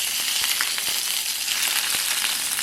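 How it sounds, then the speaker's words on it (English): Spinach sautéing in a little oil in a pan, a dense, even sizzle with brief crackles and light stirring clicks, close and continuous without speech. "In the same pan, we're going to saute our spinach. Just a little oil, then in goes the spinach."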